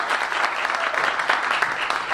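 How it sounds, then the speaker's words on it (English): Dense, steady applause from an assembled crowd honoring a police captain of the Wilshire Division, moderately loud and continuous throughout. "Let's give Captain Odo a round of applause"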